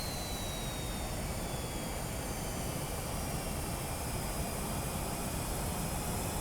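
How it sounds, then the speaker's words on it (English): Tornado F3 jet engine spooling up in the Prepar3D flight simulator, a steady loud broadband roar with a faint high whine slowly sliding downward, constant throughout with no voices. "continue to monitor the engine as it spools up"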